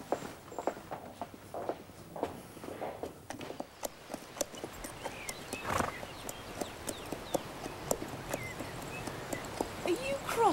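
Horse hooves clip-clop at a walking pace, with repeated clear hoof strikes and occasional faint whinnying sounds under intermittent talk.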